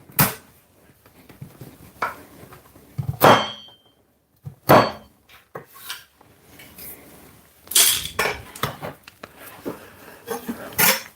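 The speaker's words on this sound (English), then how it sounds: "The nutmeg, I like to give them a little bit of crack before I put in the blender." Whole nutmeg is cracked by hand before blending, giving a string of sharp, loud knocks and clacks in irregular bursts, with brief quiet gaps between strikes and no talking.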